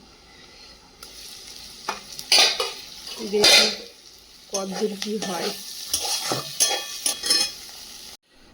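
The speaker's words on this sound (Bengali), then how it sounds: "কাঁকরোলটা ভেজে নেব" Pointed gourd sizzles as it fries in a pan while a utensil scrapes and stirs in bursts, with a person speaking briefly over the cooking.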